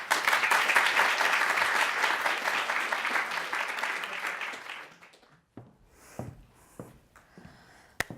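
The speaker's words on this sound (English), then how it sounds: "Let's give them a round of applause." Audience at a symposium of student presentations applauding, dense clapping from many hands for about five seconds, then fading out into quiet room noise with a few scattered sounds and breaths.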